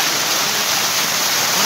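Waterfall water pours at Lahooti Picnic Point near Karachi, a steady, dense rushing roar that stays even and close throughout, with no voices.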